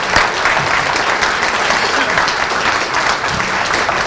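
Audience at a business awards ceremony applauding an award winner, steady dense clapping from many hands that carries on at full strength throughout.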